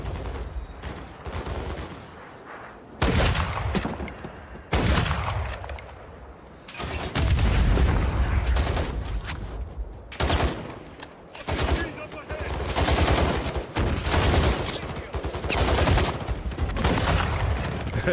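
Rapid gunfire from the Call of Duty MW3 campaign, with bursts of automatic rifle fire and single loud shots crowding together, mixed with explosions and shifting battle noise at close range.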